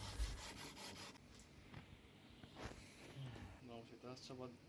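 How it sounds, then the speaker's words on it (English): Rhythmic rubbing strokes come from leveling the fretboard of a vintage 1960s bass guitar neck with an abrasive. The strokes are close and moderately loud, and a voice talks over part of the scraping. "He is leveling the fretboard."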